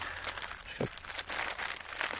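A plastic bag crinkles in short, irregular bursts as a necktie hidden camera is unpacked from it, close and fairly quiet with small rustles and snaps.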